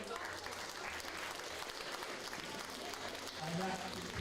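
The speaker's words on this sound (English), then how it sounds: "Huge round of applause for our women's B group lifters." Crowd applause at a strongman stone lifting competition, a quiet, distant wash of clapping held steady for a few seconds, with faint voices underneath.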